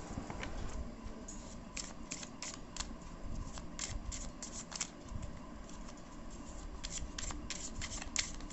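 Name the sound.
tarot cards being shuffled and drawn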